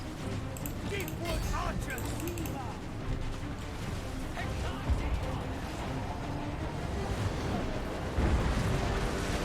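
Hellcannons fire artillery in the Total War: Warhammer video game, heavy booms and rumbling blasts rolling continuously beneath a dense battle din, with someone talking over them.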